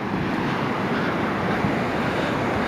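Ocean surf at Roads End beach in Lincoln City rolls in as a continuous broad wash of breaking waves, mixed with some wind rumble and no voices.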